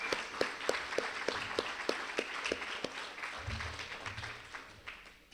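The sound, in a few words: audience applause at annual meeting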